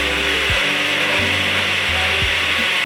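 An electric mixer grinder blends a sweet dessert mixture for an Eid meetha, giving a steady whirring hum with a few brief dips and pulses in the motor.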